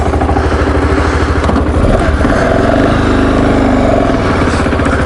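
A BMW 650 GS motorcycle engine runs loud and steady at close range, a continuous throbbing drone with a slight rise in revs partway through and no voices.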